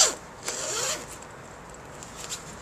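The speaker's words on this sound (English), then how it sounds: "And then you get two zippers." Zipper on a padded fleece-lined Lug laptop case pulled open in one quick close rasp, followed by softer scattered handling sounds.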